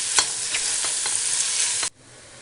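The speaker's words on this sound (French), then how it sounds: "Donc je mets ma chair à saucisse et je la fais revenir." Sausage meat browning in a frying pan, a steady loud sizzle with periodic scraping stir strokes, cut off abruptly near the end.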